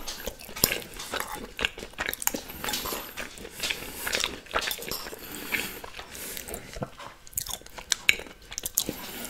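Close, crisp bites and wet chewing of a salmon poke bowl with smoked salmon, repeated in an irregular rhythm with occasional crunches and light utensil clicks, no talking.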